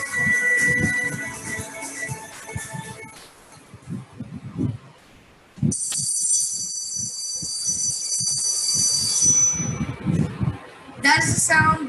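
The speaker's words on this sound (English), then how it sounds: "That is the sound that all of us hate, the back to class bell." A school bell rings for the end of recess, a bright sustained metallic ringing that starts abruptly midway and holds for several seconds, with a short burst again near the end, preceded by quieter tones and rustling.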